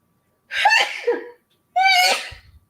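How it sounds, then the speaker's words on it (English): A single loud sneeze, a sharp burst with a brief intake before it, followed after a short pause by a second explosive sneeze-like burst, close to the listener. "I'm about to sneeze."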